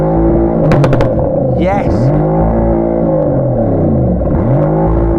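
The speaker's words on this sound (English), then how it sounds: "Oh yeah, proper fruity V8. Now give it some revs." A Bentley V8 engine idles with a deep, loud burble and is revved twice, pitch sweeping up and falling back each time, close by, with brief speech over it.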